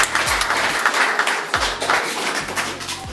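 Audience applause at a karate belt-awarding ceremony in Burera, heard as a dense burst of clapping that holds steady and close for a few seconds with a few louder thumps mixed in.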